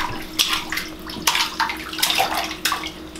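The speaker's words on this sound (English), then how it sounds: "Hear her splashing." Water splashes and sloshes in a bathtub as a child splashes in uneven bursts, several sharp surges over a steady background hum, close by.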